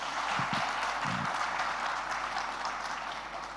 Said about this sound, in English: I paused to let them clap properly.